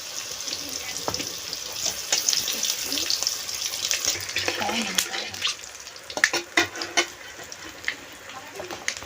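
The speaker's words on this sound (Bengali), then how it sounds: "এখন দেবো পাঁচফোড়ন, তারপর দেবো তেজপাতা" Panch phoron spices and a bay leaf sizzle in hot oil while a mixed vegetable vegetarian dish is being cooked. The crackling is steady and close, with scattered sharper pops throughout.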